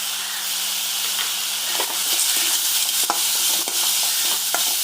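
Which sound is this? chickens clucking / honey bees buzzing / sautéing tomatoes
sautéing tomatoes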